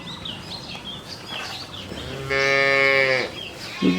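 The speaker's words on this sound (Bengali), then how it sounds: "দুইটা গাভী অনেক সুন্দর মানসম্পূর্ণ গাভী" A single loud, drawn-out moo from a dairy cow with a strong harmonic tone rises over a murmur of background noise and birds chirping.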